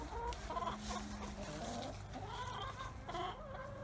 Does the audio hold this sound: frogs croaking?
no